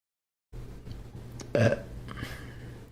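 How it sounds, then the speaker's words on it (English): A woman forces a single deep, loud burp on command, a short rumbling belch that erupts about halfway through after a little quiet throat noise, close to the microphone. "Can I burp on command?"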